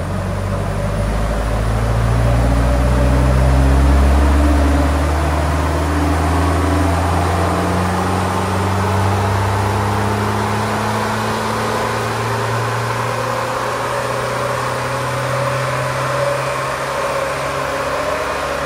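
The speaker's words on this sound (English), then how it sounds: "So next morning, I decided to run the Land Rover two more times just to check the results." Land Rover engine on a dynamometer with its cooling fan removed, revving up with a loud low drone whose pitch climbs over the first few seconds, then running steadily at high speed throughout without any voices.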